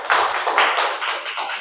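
A group gets a short round of applause in a classroom: a dense patter of many hands clapping at close range for under two seconds, with no talking over it.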